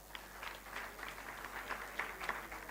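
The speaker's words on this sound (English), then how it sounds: "Let's clap, students." Light, scattered clapping from a small group of students at a Thapar Institute of Engineering & Technology event, fairly faint and brief.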